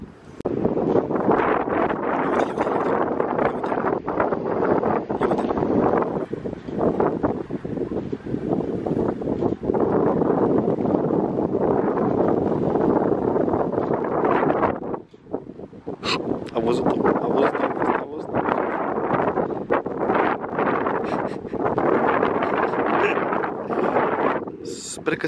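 Heavy wind buffets the microphone in loud, rumbling gusts that drop out briefly partway through, with a voice speaking underneath.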